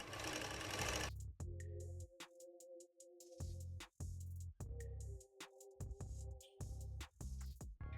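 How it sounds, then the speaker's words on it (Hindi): A sewing machine stitches elastic into the sleeves of a baby girl's winter frock, running in close, loud bursts of rapid stitching separated by short pauses. "अब इस साइड से भी इलास्टिक को स्टिच कर लेंगे।"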